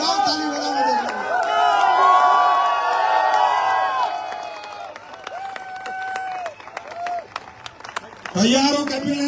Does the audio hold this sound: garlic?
no